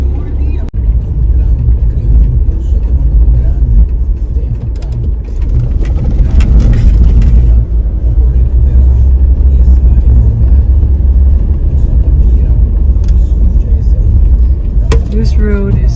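A car drives slowly over a rough, rocky, hilly road in Aruba, its engine and tire rumble loud and continuous with bumps and rattles, while a voice talks over it.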